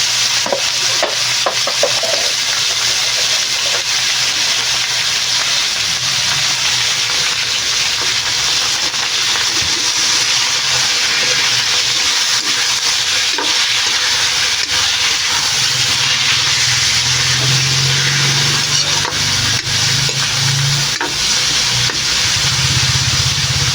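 Ground pork sizzling and frying in a hot pan, a steady loud hiss with crackling spatter and occasional stirring or scraping, continuing without talk.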